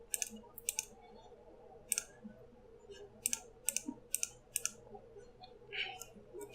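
Mouse clicks in the puzzle game Lights Off, sharp, quiet clicks landing singly and in quick pairs with irregular pauses over a faint background hum.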